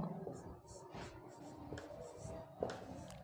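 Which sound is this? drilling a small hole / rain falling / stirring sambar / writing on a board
writing on a board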